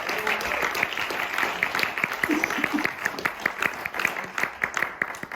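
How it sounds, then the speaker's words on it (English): Scattered applause from a live audience at a Maori cultural show at Te Puia, New Zealand, honouring a warrior performer; claps rise into a steady round of moderate loudness lasting several seconds, with faint voices underneath. "a round of applause for our warrior"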